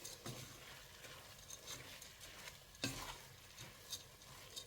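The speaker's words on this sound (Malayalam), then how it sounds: "നന്നായിട്ട് നമുക്കിനി റൈസ് ഇതിലോട്ടൊന്ന് മിക്സ് ചെയ്യാം" Soaked rice is stirred into beef keema in a pot, giving quiet, low-level scraping and soft sizzling with a few sharper spoon knocks.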